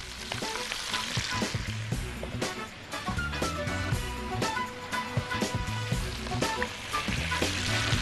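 Onion fries in hot oil for tahmira, sending up a dense, close crackling sizzle, with busy spatters and stirring clatter that keep going throughout.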